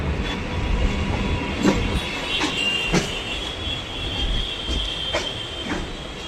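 A Kolkata Circular line local train rolls slowly, giving a steady close rumble with soft clickety-clack wheel beats and faint metallic squeals throughout.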